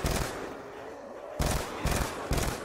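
Bursts of automatic gunfire from a rifle in Black Ops 2 Zombies on the Bus Depot map: a sustained spray, a pause, then three short clipped volleys, with faint game ambience between.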